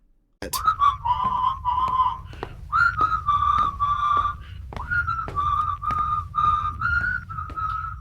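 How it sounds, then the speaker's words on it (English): Someone whistles a simple tune nearby, clear sustained notes in short phrases with brief pauses between them. "Your whistling is not making us appear as nonchalant as you may think."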